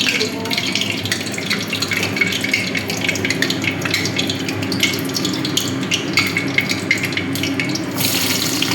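Potatoes go into hot cooking oil in a home Bengali kitchen and fry with a dense, continuous crackling sizzle that stays loud and close throughout.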